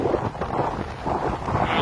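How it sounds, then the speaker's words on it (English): Steady strong wind on a beach at Opotiki buffets an outdoor microphone, a continuous low rumble with gusty swells and no voices. "there's a lot of rubbish on the beach, very windy"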